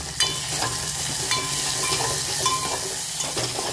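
Curry leaves, ginger and coriander sizzle in hot oil for a tempering, with a steady crackling hiss and occasional clinks of a spoon stirring the pan, close up and without talk.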